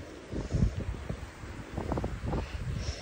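Gusty wind buffets the microphone on a dry-season forest trail on Mount Rinjani, a steady rushing roar with low thumping gusts and faint rustling, no talk.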